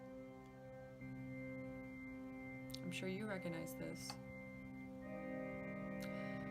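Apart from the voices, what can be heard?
organ character theme music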